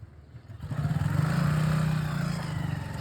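A motorbike laboring up a steep slope, its engine close and loud with a strained, chugging rumble that builds and holds.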